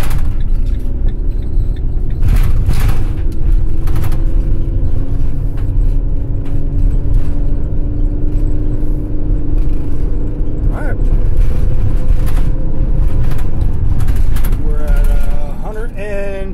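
A 2017 Ram ProMaster van with transmission and alternator work is driven at speed, giving a loud, steady engine and road rumble with rising gear whine and a shift near the end. Someone talks over it.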